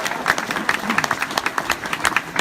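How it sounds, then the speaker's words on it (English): Scattered, uneven clapping from a small crowd at a Labour Party rally in Beeston, individual claps standing out rather than a full ovation, moderately close with faint murmuring underneath. "give yourself a massive round of applause"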